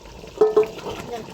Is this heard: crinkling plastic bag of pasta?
no